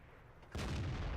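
A single tank cannon shot from an E50 in the World of Tanks video game: one sudden deep boom after a quiet moment, followed by a rumbling tail, fairly soft overall.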